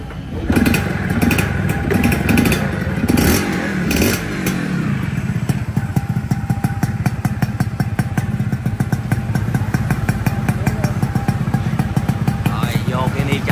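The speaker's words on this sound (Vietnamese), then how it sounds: "Giờ đạp nổ máy cho mọi người nghe ha" A Yamaha Yaz 125 two-stroke motorcycle is kick-started with a few clattering kicks, then fires up and runs with a loud, buzzing, rapidly pulsing idle and short revs, heard close by.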